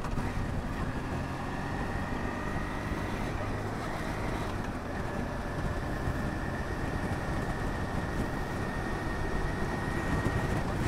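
A Yamaha XTZ750 Super Tenere motorcycle engine holding around 2500 rpm while riding, a steady droning hum with wind rush over the microphone, continuous and close.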